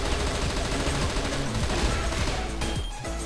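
Rapid gunfire from an OP Kriss submachine gun in the online shooter CF West, a dense continuous burst of shots that tapers off near the end with a few last rounds.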